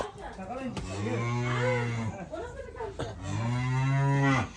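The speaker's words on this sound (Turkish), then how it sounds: "inekleri getirdik" Cows and calves moo loudly and close by, a long drawn-out call followed by a second rising one, with a few voices faintly in the background.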